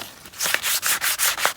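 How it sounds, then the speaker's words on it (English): Sandpaper rubs by hand along the edges of a wooden log stool, about six rhythmic back-and-forth scratchy strokes, close and clear. "now I'm just using some sandpaper to sand the edges"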